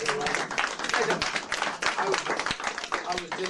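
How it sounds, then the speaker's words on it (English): An audience at a comedy show claps and cheers in a lively, uneven burst of applause, with voices and laughter mixed throughout. "Oh, that's worth a round of applause."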